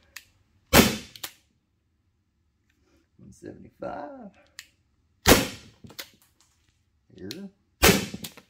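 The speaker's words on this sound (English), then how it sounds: "let's shoot a couple more" A Byrna launcher fires rubber balls in three sharp, loud cracks spread across several seconds, with a voice talking between the shots.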